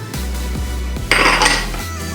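Garlic, shallot and basil are stirred in a pan, giving close metallic scraping and clinking of utensil against cookware that grows busier midway, with no talking.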